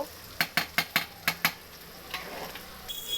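Sliced onions frying in white oil in a kadai for biryani birista: a row of six sharp metallic scrapes from a spatula against the pan over a faint sizzle, then looser, softer stirring.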